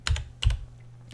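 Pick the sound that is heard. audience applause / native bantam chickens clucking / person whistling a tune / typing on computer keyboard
typing on computer keyboard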